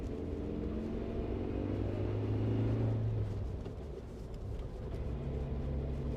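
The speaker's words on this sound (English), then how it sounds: "It's a very loud engine." A Suzuki Jimny engine drones and rumbles while driving, a steady low hum that swells slightly midway and then eases.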